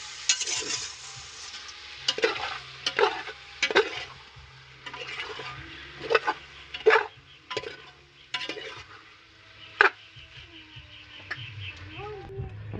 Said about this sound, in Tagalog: haluin natin ng maigi